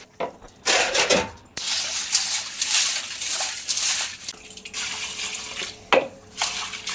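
Small crabs are rinsed by hand in a metal pot for village-style cooking: water sloshes and splashes in bursts, with scraping and rubbing against the vessel and brief quiet gaps between.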